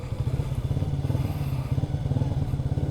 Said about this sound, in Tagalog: narinig nyo ba yung tambucho ko? Binobomba-bomba ko lang ng konti.